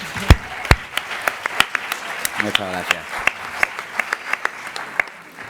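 People applaud at a colloquium after the preview screening of a 2025 TV series. Sparse, individually audible claps tick along at a steady pace from a small group, and a voice briefly speaks over them.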